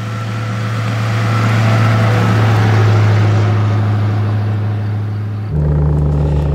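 A 1936 Mercedes 500K Spezialroadster with a 5.1-litre eight-cylinder engine rumbles steadily while driving, a deep continuous drone that swells slightly and then shifts abruptly near the end, as if changing gear.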